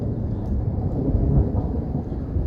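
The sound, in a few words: constant thunder from a thunderstorm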